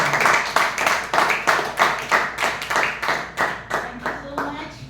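Audience at a Toastmasters club meeting clapping to welcome the next speaker, a lively burst of individual claps from a modest group, rhythmic and fairly close, with a faint voice underneath near the end.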